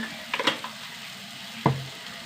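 Tomato masala sautéing in a pan with turmeric, a low steady sizzle broken by a few scraping stirs early on and one sharper clatter near the end.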